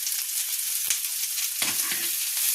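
Vetki fish sautéing over medium flame with spring onion and garlic leaves just added, a loud continuous sizzle with brief stirring knocks, heard up close without talk.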